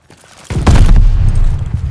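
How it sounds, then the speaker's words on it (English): A grenade detonates in Call of Duty: Vanguard: a sudden loud boom about halfway through, followed by a heavy rumbling roar that sustains to the end amid crackling debris. "Tossing grenade!"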